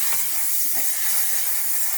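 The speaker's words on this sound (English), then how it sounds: "It's the Moroccan Oil Luminous Hairspray, strong finish, weightless, natural look, no sticky residue." Moroccanoil Luminous hairspray sprays in a steady, close, airy hiss lasting the whole moment, with no talk.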